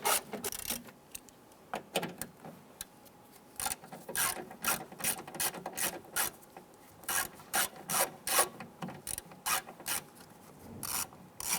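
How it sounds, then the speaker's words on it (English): A ratchet with a 7/32 socket and extension clicks in short, irregular bursts while backing four screws out of a 1995–2001 Ford Explorer rear door panel, close and fairly quiet. "7/32 socket and extension. We have a total of 4 screws here we're going to remove."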